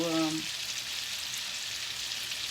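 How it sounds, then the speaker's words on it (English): Chicken searing in a frying pan gives a steady, even sizzle that carries on throughout, with a short low hum at the very start and no speech. "I'm going to let this get brown. You know, sear it pretty good."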